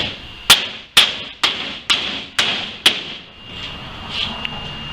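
Six sharp, close hammer blows drive 4D nails into wooden DIY storage shelves, landing in an even rhythm about half a second apart, each with a brief ringing tail, before the room goes quiet.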